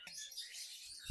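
Cockatiels call in a bird sanctuary and pet farm at Yercaud, giving soft, high chirps and tweets that run steadily through a short, quiet stretch with no talking.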